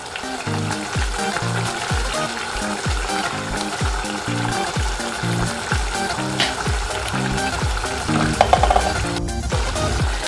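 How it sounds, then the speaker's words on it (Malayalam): Sardines go into a simmering Kerala-style sardine curry in a pan, giving a loud, continuous bubbling sizzle with a rhythmic low thumping beneath it throughout. "ഇതിലോട്ട് നമ്മൾ മീൻ ഇട്ട് കൊടുക്കാം."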